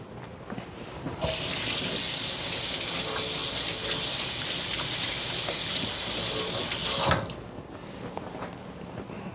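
A cactus paddle is washed under a running kitchen tap, with a steady loud gush of water lasting about six seconds that then cuts off sharply, close and with no talk.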